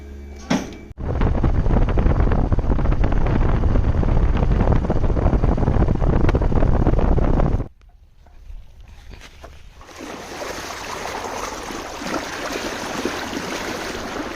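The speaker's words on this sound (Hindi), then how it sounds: "समर का पानी बहुत ज़्यादा तेज चलता है, ये देखो कितना पानी निकल रहा है" Water from a submersible pump gushes into a farm field with a loud, dense, continuous rush close by. It cuts off abruptly, then returns as a quieter, steady flow.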